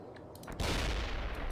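Gunfire erupts in World in Conflict, a Cold War real-time strategy game, with a dense, continuous burst of shots starting after a quieter opening and holding loud to the end.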